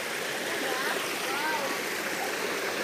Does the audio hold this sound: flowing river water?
yes